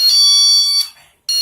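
A newly unboxed door alarm sounds in chime mode, a loud, bright electronic tone that rings, fades, breaks off for a moment, then starts again.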